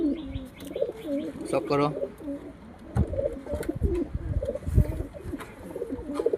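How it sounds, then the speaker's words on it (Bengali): Pigeons kept for sale coo in low, rolling bursts close by, mixed with chirps while someone talks over them for most of the stretch. "দেখো পাখাটা দেখো পায়রাটা"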